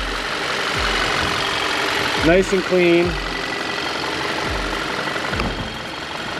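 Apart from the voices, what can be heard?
2015 Volkswagen Tiguan engine idling under open hood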